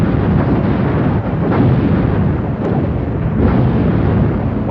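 Cartoon explosions as an ape destroys storage silos, a heavy continuous rumbling roar with booming blasts and crackling debris, loud and close throughout.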